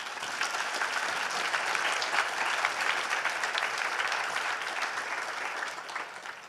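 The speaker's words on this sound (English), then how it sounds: "So give them a big round of applause" Steady, sustained applause fills a conference hall for the full stretch, a dense wash of many hands clapping at an even level, easing slightly toward the end.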